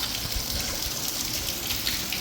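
A small waterfall on a stream where a paper boat is being floated, giving a steady, loud, close gush of rushing water that lasts the whole stretch with no talk.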